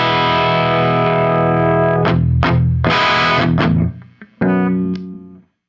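Electric guitar played through a Lichtlaerm Aquaria Overdrive v2 amp, heavily distorted: loud sustained chords ring out, then short choppy stabs and a final held chord that fades to silence.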